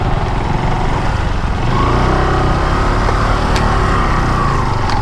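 A car engine droning and revving loudly nearby as it is driven out through bushes, a steady engine roar alone for several seconds.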